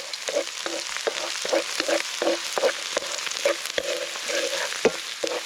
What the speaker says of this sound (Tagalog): Igisa na natin mga kababayan ng ating bawang.